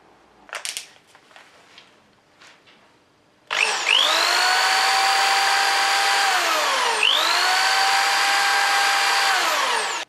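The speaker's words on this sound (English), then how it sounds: "I have now drilled and tapped one side" A power drill bores and taps a hole in a metal part for a bow thruster build. A few faint clicks come first, then a loud, steady motor whine runs for about seven seconds, its pitch sagging and recovering twice under load.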